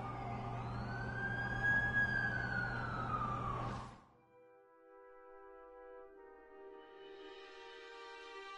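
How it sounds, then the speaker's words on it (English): An ambulance siren wails loudly and close for about four seconds, its pitch sweeping in a long rise and fall, then cuts off abruptly, leaving a quieter steady tonal hum behind. "That's the ambulance I called."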